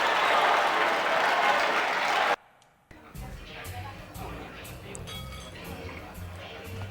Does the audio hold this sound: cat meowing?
no